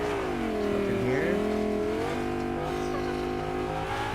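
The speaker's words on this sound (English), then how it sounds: "Car behind me." Car engine in the video game Fortnite drawing closer, a steady loud drone with rising and shifting pitch throughout, heard alone without talk.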